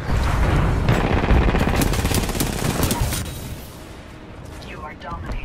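Rapid sustained gunfire from a giant robot battle video game, loud and dense bursts that thin out toward the end, with a few higher whooshing tones at the close.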